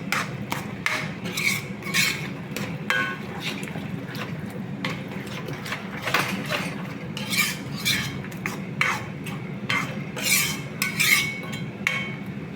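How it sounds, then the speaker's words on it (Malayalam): A spoon scrapes and stirs egg roast masala with coriander and pepper powder in a pan, repeated close scraping strokes in an irregular rhythm over a low background hum. "മല്ലിപ്പൊടി, കുരുമുളക് പൊടി എന്നിവയിട്ട് നന്നായി വീണ്ടും ഇളക്കുക."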